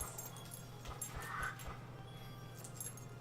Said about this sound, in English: Is it a dog? Is it a dog?